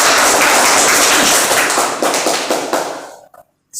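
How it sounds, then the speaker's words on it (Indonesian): Classroom clapping, a loud dense burst of many hands close by that thins into a few scattered claps and stops after about three seconds. "Kita berikan tepuk tangan."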